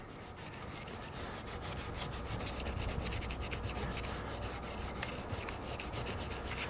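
Scouring a part of an antique Century repulsion-start induction electric motor with a Scotch-Brite pad, giving a continuous close abrasive scrubbing with quick rhythmic strokes, steady and moderately loud, with no talking.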